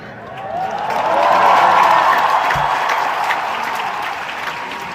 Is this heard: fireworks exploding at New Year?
no